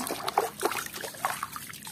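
Clean water trickles and drips while toys are washed, soft irregular splashes close by over quiet background.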